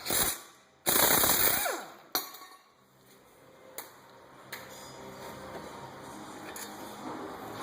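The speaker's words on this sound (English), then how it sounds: "I'm using an impact gun." Impact gun loosening brake caliper bolts on a 2009 Dodge Journey during front brake work, two loud rattling bursts near the start followed by short sharp taps and a steady background hum.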